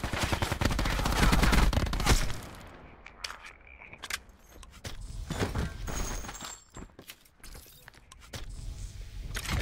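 Rapid gunshots from Call of Duty Blackout on the Alcatraz map, a loud close burst of fire followed by scattered sharp shots and clatter, alone without talk.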